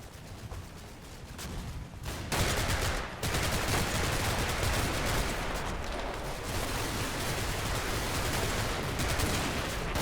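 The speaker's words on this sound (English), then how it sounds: "I give the orders to open fire on this flank" Sustained automatic weapons gunfire and heavy rattling volleys in the Combat Mission WWII tactical game as Fallschirmjaeger squads open fire at close range around a village and barn, dense and continuous after a sharp swell near the start.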